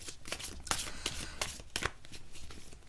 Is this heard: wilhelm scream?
no